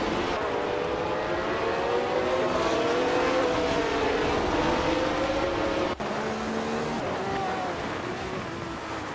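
A 2014 Renault Formula 3.5 race car runs in a race with a loud, steady, high-pitched engine whine whose pitch drifts and shifts throughout, then drops sharply at one point, likely a gear change.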